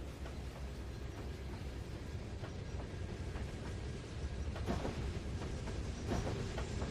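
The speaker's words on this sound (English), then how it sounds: "Boxcar's on the move." A boxcar rolls on rails in the Trainz 2019 railway simulator, giving a steady low rumble with faint rhythmic clicks from the wheels on the track.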